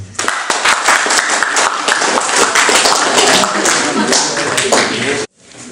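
A crowd bursts into applause for a speaker being introduced at a formal talk on environmental education, with dense, loud, steady clapping sustained for about five seconds before it cuts off abruptly.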